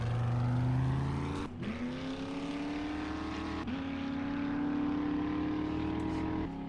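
A truck engine in the survival game 7 Days to Die drones at a steady, fast-revving pitch, shifting upward twice in quick gear changes, loud and continuous with no other sounds over it.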